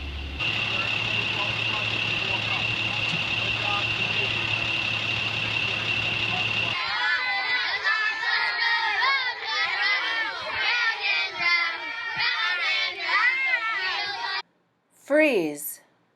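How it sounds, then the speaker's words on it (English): A crowd of children chatter and shout loudly inside a school bus over a steady engine hum, with many overlapping voices for several seconds before a sudden drop to near silence and one short loud call. "Noise on the bus is very distracting to the bus driver."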